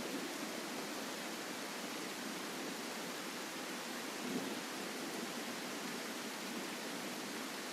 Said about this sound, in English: I don't even understand me with this heavy rain.